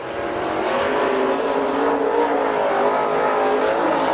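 Super late model race car roaring around a dirt track at Dixie Speedway, a sustained loud engine drone at full throttle, steady and moderately distant with slight rises in pitch.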